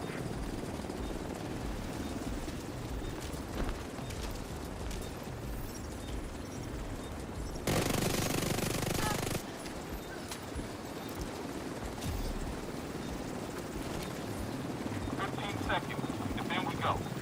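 A helicopter in The Division 2 keeps up a dense, steady rotor roar for the whole stretch, with a brief louder burst in the middle, amid game noise and a voice speaking.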